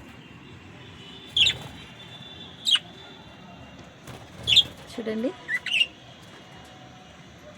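Lovebirds kept in a terrace garden give a few sharp, high chirps spaced a second or more apart, followed by a quick cluster of calls. The calls sound fairly close over a soft outdoor background, and a voice speaks briefly.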